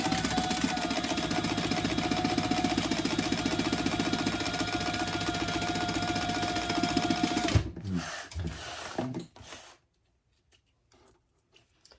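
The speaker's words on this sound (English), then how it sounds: "Now, I am going to go ahead and stitch down this side at 1/4 of an inch." A sewing machine runs steadily, stitching a quarter-inch seam down the side of a notebook cover for a composition notebook, a fast, even whir and tick that stops abruptly, followed by a few soft handling clicks and then near silence.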